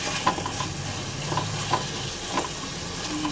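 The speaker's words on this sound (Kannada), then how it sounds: "ಸ್ವಲ್ಪ ಯೆಲ್ಲೋ ಪೌಡ್ರು, ಚೆನ್ನಾಗಿ ಮಿಕ್ಸ್ ಮಾಡ್ಕೊಂತ ಫ್ರೈ ಮಾಡ್ಕೊಳ್ಳೋಣ." Dill leaf dal with turmeric powder frying in a pan while being stirred, a steady sizzle broken by several spoon scrapes and light clinks against the metal, close and alone without talk.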